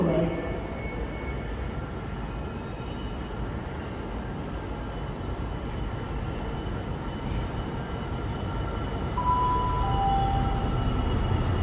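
Class 66 diesel locomotive 66528 rumbling through Reading station, a long steady low roar of the passing train with rising intensity near the end, under faint station ambience and a brief announcement tone.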